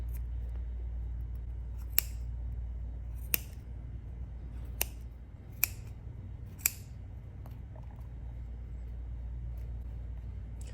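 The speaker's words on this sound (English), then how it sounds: "So I'll take a pair of scissors and see if I can cut around." Sharp, isolated scissor snips cutting fabric sound about five times at irregular intervals over a steady low rumble of traffic.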